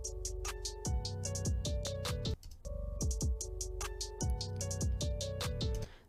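A drum loop plays back in an editing session, with punchy kick hits and crisp snare and cymbal strikes in a steady repeating pattern, cut off briefly by a gap and then resuming before stopping.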